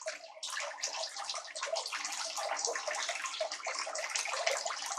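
Water streams steadily through a high banker gold sluice, a continuous bright rushing and splashing wash with no pauses, moderately loud and heard without voices.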